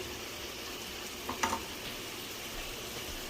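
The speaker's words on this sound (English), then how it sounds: "my chicken is still cooking" Chicken cooking in a pan gives off a faint, steady sizzle throughout, with a brief clink partway through.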